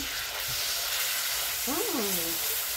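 Garlic sizzling loudly in a large pan as it is stirred, a steady hiss throughout, with a voice briefly rising over the frying near the end.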